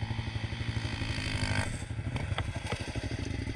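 A motocross bike's engine revs hard nearby with a buzzy, pulsing drone that climbs and then rattles unevenly as the throttle changes, with faint clatter mixed in.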